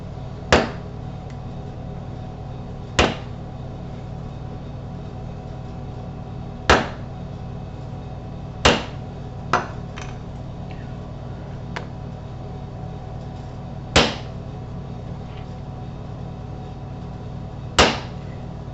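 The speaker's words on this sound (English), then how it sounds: "this is an 1/8 inch CS Osborne punch" A 1/8 inch CS Osborne hole punch hammered through leather, sharp isolated strikes at irregular intervals of a few seconds against a low steady background hum, close and distinct.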